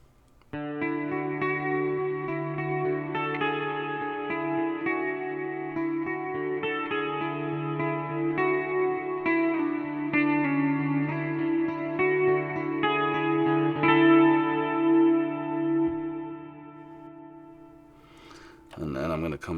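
An electric guitar runs through a Boss GT-8 multi-effects processor with reverb added, sustained ringing chords and single notes blooming and decaying under a wash of ambience, ending on a brief strum.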